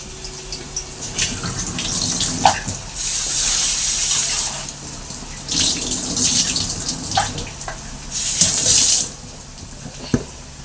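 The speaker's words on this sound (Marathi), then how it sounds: "हे मासे आहेत, हे 2 वेळा धुवून घेते मी." Tap water runs into a kitchen sink while dried shrimp are rinsed by hand, a hissing gush that surges and eases in several bursts with splashes and clinks between, close by, with no talking.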